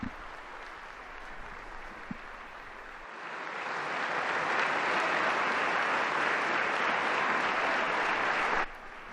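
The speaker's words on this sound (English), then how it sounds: "the participants are applauding Pope Francis, who's now walking slowly with his cane" An audience at a papal gathering in the Vatican applauds Pope Francis as he leaves, the clapping starting softly then swelling into a broad, sustained wash of many hands before cutting off abruptly.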